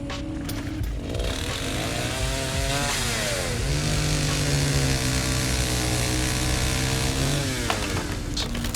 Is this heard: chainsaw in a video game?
yes